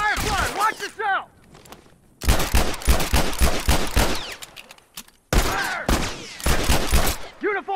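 Bursts of gunfire in The Last of Us multiplayer, rapid volleys of shots in three clusters separated by short gaps, loud and close, with voices shouting over the firing.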